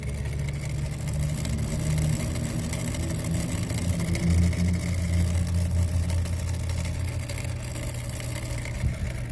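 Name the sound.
faulty defrost timer clock grinding in walk-in freezer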